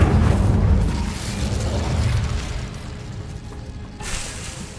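A fire spell is cast in Hogwarts Legacy, giving a loud, full-bodied boom and rushing burst that starts strong and slowly fades. A second, brighter whoosh lands near the end, and no one is talking.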